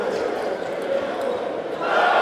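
A crowd at a women's table tennis final reacts with a broad murmur and groan that swells louder near the end, with a commentator talking over it.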